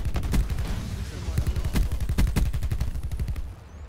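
Gunfire in Call of Duty Black Ops 4: a rapid, steady stream of punchy shots with a few louder cracks, continuing for several seconds before tapering off.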